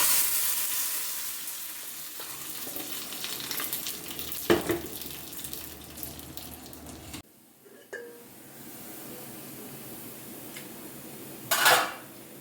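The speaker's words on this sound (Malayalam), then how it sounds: "ഇതിന് കടുക് വറുത്തു" Mustard seeds, curry leaves and shallots fry in hot oil in a home kitchen, a steady sizzle with sharp spatters and pan clinks, briefly dropping out midway before the crackle resumes and flares near the end.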